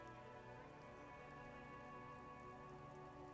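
Rain falls in the rainy coastal city of Disco Elysium, a very faint, steady hiss of drops beneath low sustained ambient tones, unbroken for the whole stretch.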